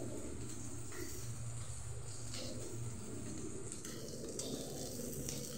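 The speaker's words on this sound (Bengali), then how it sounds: "বোনের বাড়ি কই মাছ ভাজতেছি" Koi fish fry in a pan, giving a continuous soft sizzle with occasional stirring and faint utensil clinks, heard alone at a moderate distance.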